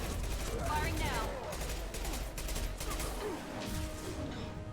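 Gunfire from the Mass Effect Legendary Edition game, dense bursts and impacts crackling loudly through a busy, continuous battle mix with chatter and effects layered underneath.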